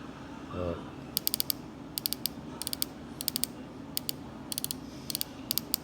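The adjustment knob on a Sure Loc Carbonic bow sight clicks crisply and close up, in short clusters of three or four sharp, evenly spaced ticks repeated several times over a quiet background.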